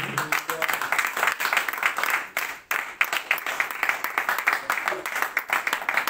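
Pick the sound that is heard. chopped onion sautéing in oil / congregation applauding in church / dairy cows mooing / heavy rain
congregation applauding in church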